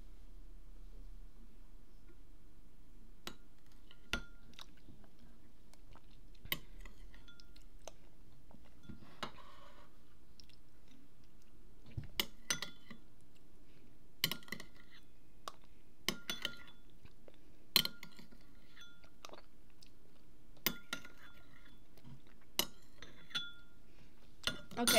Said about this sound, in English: If you heard spoon sounds, that was me eating